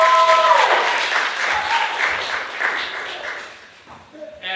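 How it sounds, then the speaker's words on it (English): Audience applause at a school media arts winter film festival, a dense wash of clapping that fills most of the stretch and thins toward the end, with a voice and music cutting in briefly at the close. "Giving these guys a bit of round of applause."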